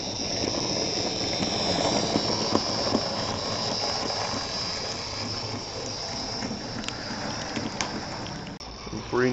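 A 4-6-0 steam locomotive rumbles steadily along the rails with a continuous mechanical roar, close by, with occasional metallic clanks and squeals.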